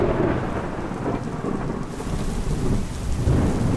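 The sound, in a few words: thunderstorm with heavy rain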